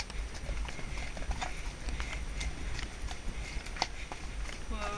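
A pony's hooves clip-clop at a steady walk on a chilly winter ride, heard from a rider's helmet with wind and tack noise, the footfalls moderately close under faint rustling.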